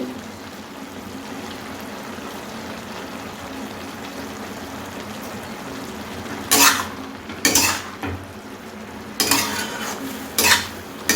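Bottle gourd shukto stirred with salt in a pot: a soft simmering bed at first, then several loud scraping, clattering spoon strokes against the pot in quick bursts near the end, close and without talk.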